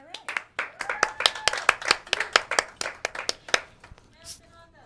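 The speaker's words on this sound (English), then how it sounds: "Let's get a round of applause for this man, please." A small audience at a local evening show claps in a burst of distinct, fairly near handclaps that thin out and fade toward the end, with a brief voice at the close.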